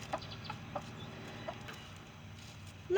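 Backyard hens in a movable coop and chicken run give a few soft, spaced clucks over a quiet outdoor background.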